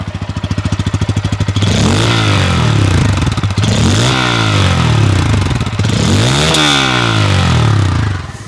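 A Bajaj Pulsar N160, a 160 cc 2024 motorcycle, starts with a rapid clatter, then its engine revs hard up and down in three strong surges. It sounds close and loud, with no talk.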